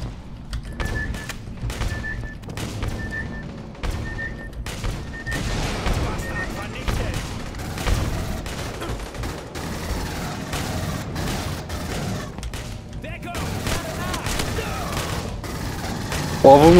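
Gunfire in the video game Aliens: Colonial Marines crackles in rapid bursts and repeated shots across the whole stretch, mixed with game effects, while players talk over it in German.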